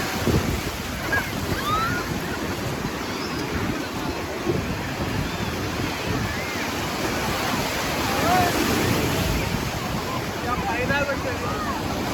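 Ocean surf and wind at Mypadu beach in Nellore, a steady broadband wash of breaking waves with wind buffeting the microphone, continuous and fairly loud throughout, swelling slightly toward the end.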